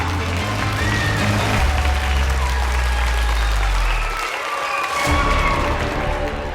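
Audience applause greeting magician Veer Bhardwaj as a magic show begins in a TV drama, a dense, steady wash of clapping that briefly dips before surging back, loud and sustained with a low rumble underneath.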